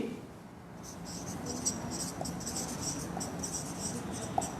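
A chemical compound is written out by hand in a quiet, continuous series of light scratchy pen strokes, close and soft, with faint background hiss.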